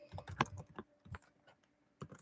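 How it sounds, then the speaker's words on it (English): Quiet keystrokes on a computer keyboard come in a quick clustered run, pause briefly, then resume with a few more taps, close by with no talking. "I'm actually just going to go ahead and type this in"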